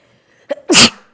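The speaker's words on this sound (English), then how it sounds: "Oh, I have to sneeze." A quick sharp breath in, then a single loud, explosive sneeze right up close, in an otherwise quiet room.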